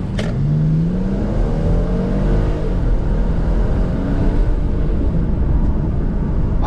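A Mercedes E400 coupe in sport mode accelerates hard along a straight road, its engine roaring loudly and steadily as the revs climb, heard from inside the car with a window partly lowered.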